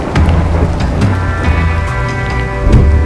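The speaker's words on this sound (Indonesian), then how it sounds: "Lama kami menunggu, hujan pun tak kunjung berhenti." Heavy rain pours steadily over a tropical forest near the Waitebo River, a dense, continuous hiss of drops on leaves and ground with a low rumble beneath, loud and close with no voices.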